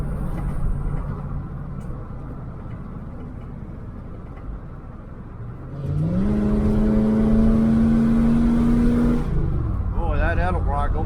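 A 1978 El Camino SS V8 with an Edelbrock carburetor idles roughly, then revs up hard and holds a high, steady roar for several seconds before dropping back, loud and close.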